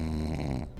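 Snoring from a sleeper with suspected sleep apnea, a single rough, low breath sound lasting under a second, fairly close and steady before trailing off.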